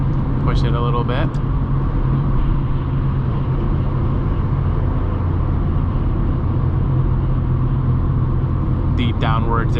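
A 2004 Acura EL accelerates hard to pass on a highway, its engine and road noise forming a steady, loud rumble heard from inside the cabin, with brief chimes or beeps at the start and end.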